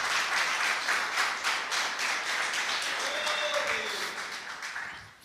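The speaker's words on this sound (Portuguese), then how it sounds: "Aplauda o Senhor Jesus." A church congregation claps steadily and loudly, a dense wash of applause that slowly fades toward the end.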